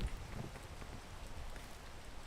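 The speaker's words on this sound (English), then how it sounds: "Oh no, not the rain too." Soft, steady rain patters in a video game, a faint and even wash of drops with no voices over it.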